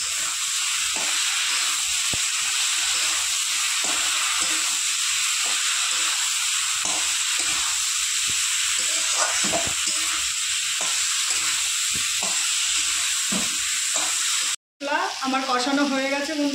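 Chopped tomatoes sizzle steadily in hot oil in a pan for a bata fish curry, with soft stirring scrapes throughout; a voice briefly speaks right at the end after a short pause.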